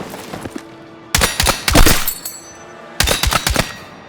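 An RPK-type light machine gun firing in the video game Battlefield 6, two loud rapid bursts of automatic fire separated by a short pause, with no talking.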